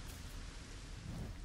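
Steady rainfall hisses from a LEGO Fortnite game world, a dense wash of noise with a low rumble of thunder swelling near the end, with no voices.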